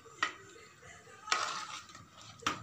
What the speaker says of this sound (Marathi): व्यवस्थित मिक्स करूयात.